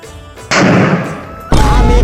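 A firecracker bursts with a loud, sharp blast, followed by a second, heavier boom about a second later, both close and harsh.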